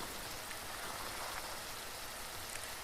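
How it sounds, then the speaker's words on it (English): Light drizzle falls on a damp morning along the Appalachian Trail, a faint, even patter with no voices. "It is a drizzly morning,"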